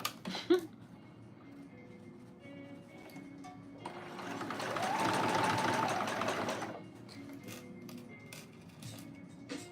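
A sewing machine stitches an African fabric in a burst of steady rapid whirring lasting a few seconds, framed by quieter moments of fabric handling before and after.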